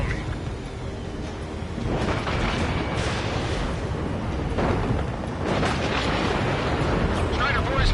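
A missile explosion strikes a fighter jet in the combat flight game Ace Combat 7, sounding as a dense, continuous rumbling roar with several loud bursts, layered under constant jet engine noise and game audio.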